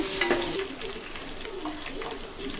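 Crushed garlic dropped into hot oil in a frying pan sizzles steadily, with a brief louder burst at the start and occasional stirring scrapes throughout.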